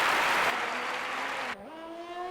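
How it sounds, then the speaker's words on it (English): Brief, dense clapping in the pit at a racing league event fades after about a second and gives way to a steady tonal hum. "Just clapping."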